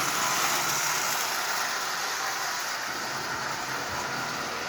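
A Lionel 8500 model train locomotive with a standard full-size motor and manual E-unit runs steadily, giving a continuous, even whirring hum with no voices.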